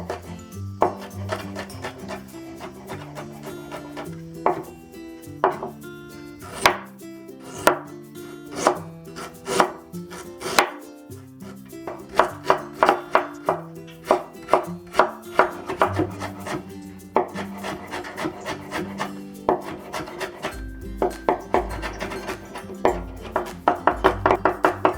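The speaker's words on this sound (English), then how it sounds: "we'll mince the ginger and garlic together" Ginger and garlic are minced together with a knife: a long run of sharp, rhythmic chopping strikes, close and loud, speeding into rapid dense bursts toward the end.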